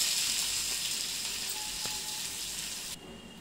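Onions frying in a pan for gavar bhaji with crushed garlic and hing: a steady, fairly quiet hissing sizzle that drops away abruptly just before the end.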